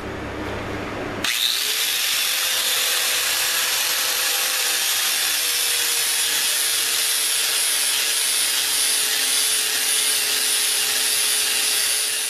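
Old axe head being ground against a small abrasive wheel: a click and then a loud, continuous high-pitched grinding hiss that holds steady for about eleven seconds, close up and with no speech.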